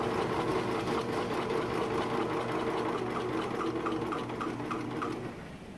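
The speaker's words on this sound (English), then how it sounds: "I'm going to sew to basically an inch or so of where we started" A sewing machine stitches fabric for a homemade heating pad, running in a steady close mechanical whir with rapid needle chatter for several seconds before slowing at the end, with no voices.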